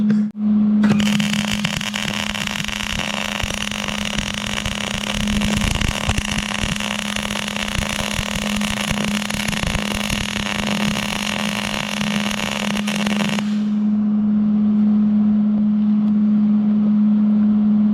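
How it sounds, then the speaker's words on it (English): Arc welding on a DIY door frame, a steady loud crackling buzz running about twelve seconds over a constant low electrical hum, then cutting off abruptly while the hum continues alone. "All right, so let's do our first weld."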